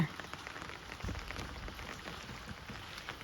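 Heavy rain falls steadily on surfaces outdoors with a soft, even patter. It holds at a moderate level throughout.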